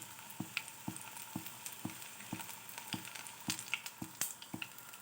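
Chili bhaji frying in hot oil, a soft continuous bubbling sizzle punctuated by a regular series of light taps, close and fairly quiet with no talking.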